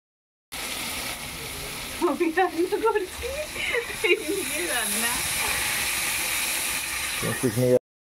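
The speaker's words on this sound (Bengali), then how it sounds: "আমাদের পিকনিকে মাংস নেই, দেখো ডিম রান্না করা হচ্ছে।" Eggs fry in a large pan for an outdoor neighbourhood picnic meal, a steady loud hiss and sizzle throughout, with a voice talking briefly over it early on.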